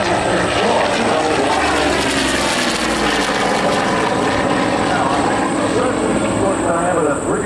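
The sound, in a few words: Corsair propeller fighter planes flying at airshow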